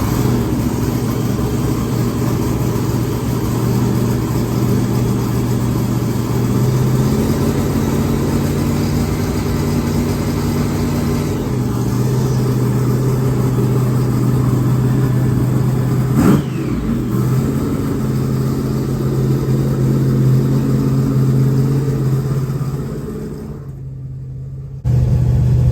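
A freshly built motor runs on a dyno in a workshop, a loud steady drone with a low hum that holds for about twenty-five seconds, dipping briefly near the end.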